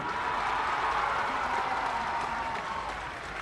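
A large crowd at the inauguration ceremony for the Guru Gorakshnath, Ram and Raj ghats in Gorakhpur breaks into continuous applause, a dense, even roar of clapping heard from a distance without speech.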